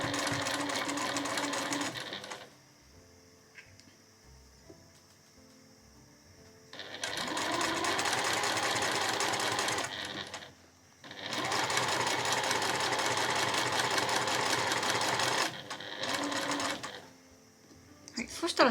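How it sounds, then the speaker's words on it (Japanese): Sewing machine stitching along the edge of a sleeveless dolman blouse in short runs of rapid, even whirring, separated by pauses where someone talks quietly. "では際を縫って仕上げていきます"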